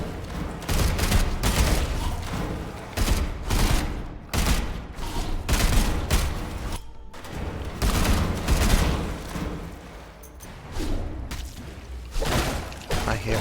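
Dense gunfire and combat noise from the video game Sulfur in a sewer level, bursts of shots and booms running continuously, loud and busy throughout.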